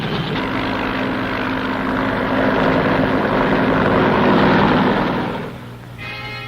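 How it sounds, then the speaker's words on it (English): Fleets of military helicopters flying over hills around a besieged base in Vietnam, a dense sustained rotor and engine roar that swells, then fades near the end. "Fleets of helicopters lift men and artillery into the hills surrounding the base."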